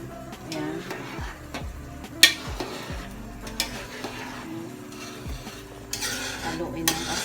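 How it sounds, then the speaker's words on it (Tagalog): Food being stirred slowly in a pan for a Bicol-style merienda, soft scraping strokes with occasional utensil clinks against the pan over a faint sizzle, close by and without talking. "basta haluin lang natin na dahan-dahan."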